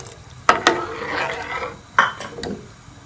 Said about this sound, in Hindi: तो अब हम इसमें ये मिक्सचर जो हमने तैयार किया है ये हम शामिल कर लेंगे और इसको अच्छी तरह से इसमें मिक्स कर लेंगे